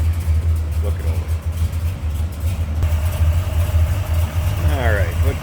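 A 1968 Chevrolet Impala two-door hardtop with a 502 engine, Hooker headers and HEI ignition idles steadily with a deep, even low rumble, loud and close throughout.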